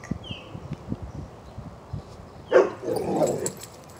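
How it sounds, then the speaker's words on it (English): A pet dog barks once fairly close, followed by a short run of rough, scuffling noise, with quieter faint sounds earlier, all indoors in the background. "Sorry about my dog in the background."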